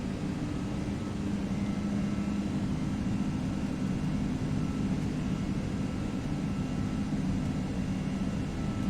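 Airbus A330-300 engines in a flight simulator game during takeoff, a steady broad roar holding at constant loudness throughout with no talking.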